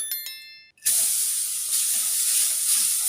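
Grated coconut dry-roasting on low heat in the same pan for green gram laddu, a sudden onset of a steady soft hiss after a brief quiet start, continuing evenly and close by with no voices.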